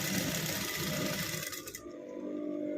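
A sewing machine stitches in a fast, steady mechanical whir with rapid ticking for almost two seconds, then stops abruptly, leaving a quiet hum.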